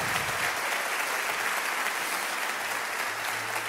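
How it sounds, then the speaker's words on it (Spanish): A church congregation applauds during a Spanish-language worship service, a dense, even wash of clapping that holds steady for several seconds with no voices over it. "No, si es un aplauso para Él, tiene que ser mejor."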